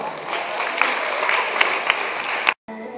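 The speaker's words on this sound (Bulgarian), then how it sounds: "Аплодисменти за Габриела." A children's Mini Miss beauty pageant audience in Ruse, 2014, applauds a contestant with fast, dense clapping and a few sharper standout claps, breaking off abruptly near the end before resuming more faintly.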